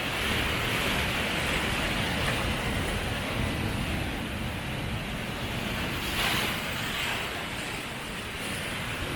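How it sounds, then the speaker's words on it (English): Ocean surf crashing and washing continuously onto the shore at Stenshuvud National Park, Sweden, a loud, broad roar with wind blowing across the microphone. "Just waiting for a cool wave to come in, like now."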